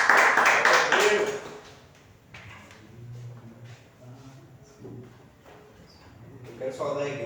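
A church congregation at a worship service bursts into loud clapping at the start, fading to scattered claps and murmuring voices, then swelling again briefly near the end.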